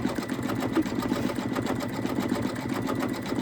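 An embroidery machine stitches out an Easter bunny appliqué with a continuous, even mechanical hum and rapid needle rhythm, close and steady throughout.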